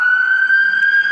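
Emergency vehicle siren sounding outside, a loud, steady high-pitched wail that holds for the whole moment.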